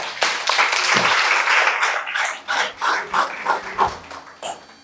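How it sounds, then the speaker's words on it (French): An audience claps for three people, dense applause at first that thins into scattered, separate claps tapering off near the end. "Applaudissez pour les trois."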